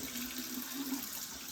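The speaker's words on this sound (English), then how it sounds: "And I am wetting my face" Warm water splashes softly as hands wet a face, a faint continuous running-and-splashing wash lasting a moment, with no talking.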